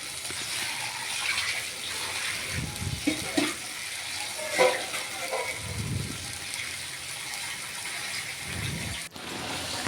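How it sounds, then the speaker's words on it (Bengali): Spice paste fried in a pan and worked with a metal spatula: a soft low sizzle with a few scraping strokes and occasional clinks, fairly quiet and steady. "এবার মশলাটা খুন্তি দিয়ে ভালো করে কষিয়ে নেব।"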